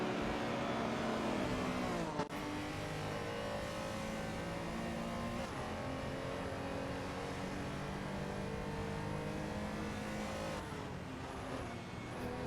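Race cars from a Le Mans racing game roar steadily throughout, with sustained engine drone and rising, shifting revs of several cars pushing hard, loud and continuous with a brief dip near the start.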